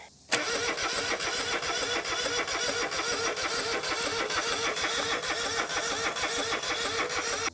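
A John Deere 2653A mower engine cranks and runs with a steady, loud mechanical chatter that holds continuously after a sudden start.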